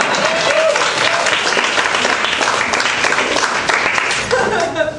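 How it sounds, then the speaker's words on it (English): A comedy club crowd bursts into loud, sustained applause with scattered cheers and whoops, a dense continuous roar of clapping that stays strong throughout and tapers slightly at the close. "A round of applause for my boyfriend"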